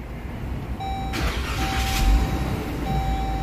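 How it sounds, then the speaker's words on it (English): A Jeep Grand Cherokee with an intermittent camshaft sensor circuit fault is started: a short cranking whir gives way to a steady idle rumble, with a chime tone sounding before and after. "I will start the engine."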